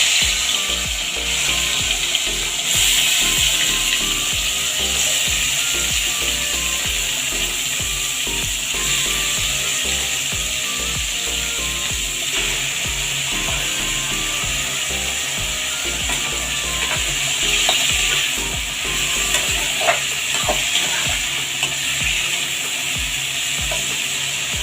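Chopped potato and pointed gourd fry in hot mustard oil in a kadai, giving a steady, busy sizzle with faint scraping and clicking, unbroken and close for the whole stretch.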